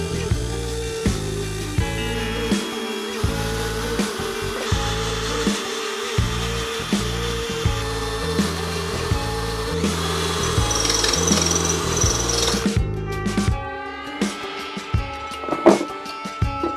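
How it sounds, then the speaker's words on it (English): A power drill bores out a corroded steel bolt seized in aluminium on a BMW K100 motorcycle, grinding loudly and close in rhythmic bursts before stopping and giving way to lighter scraping and tool handling. "I think I'm going to have to drill it out"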